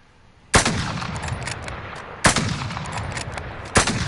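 Gunfire in the video game Call of Duty Warzone: three loud, sharp bursts spaced about 1.5 seconds apart, each followed by a sustained rattling tail of automatic fire and echo, with no talking.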